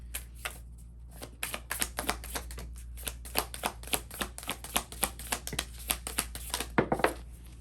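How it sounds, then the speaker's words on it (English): Tarot cards being shuffled by hand, a run of crisp riffling and slapping bursts repeating in quick irregular succession over a steady low hum, close and fairly loud with no talking. "you saw me shuffling the cards"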